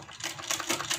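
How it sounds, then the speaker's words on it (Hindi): A sewing machine stitches along a folded half-inch kurti hem, its needle running in a fast, steady mechanical rattle that pulses slightly through the brief burst, close and moderately loud with no talking. "पूरे को हमें हाफ हाफ इंच अंदर फोल्ड करना है और सिलाई को लगाना है बिल्कुल बराबर से।"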